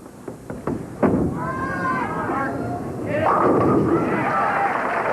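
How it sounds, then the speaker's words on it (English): Bowling ball rolled hard down the lane at a 1981 professional tournament, a deep rumble followed by the pin crash, heard with crowd noise and a commentator talking. "here's Roth's powerful ball"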